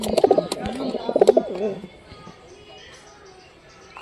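Pigeons coo in rhythmic, throaty bursts during the first two seconds, fairly close, with quieter background noise afterward.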